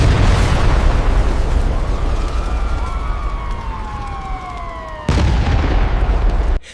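Bomb blast sound effect evoking the 1993 Mumbai serial bombings: a loud broadband roar with a rumbling low end and descending siren-like wails, ending in a sudden second burst, with no talk.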